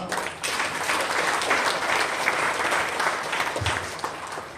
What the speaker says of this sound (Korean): 우리 이 시간에 다 같이 서로를 위해서 한번 격려 박수 한번 하겠습니다